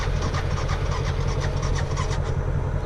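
A blown Duramax diesel pickup engine runs steadily, producing a loud, continuous rough rumble with a rapid, uneven knocking clatter throughout and no voices.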